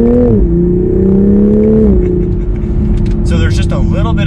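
A 2021 Toyota GR Supra 3.0 Premium accelerating gently, its engine note rising then settling into a steady hum with a brief gear-change dip, heard from inside the cabin as a person talks over it.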